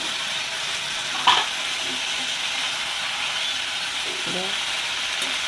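Cubed potatoes go into a pan of bottle gourd already frying in oil for a fish curry, giving a steady close sizzle and hiss with a few scraping stirs of a utensil.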